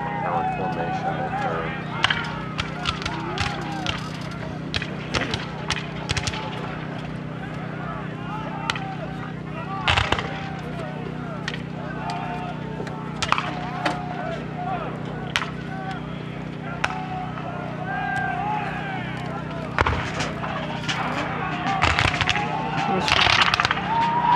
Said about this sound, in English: other times the entire line fires at once, known as a volley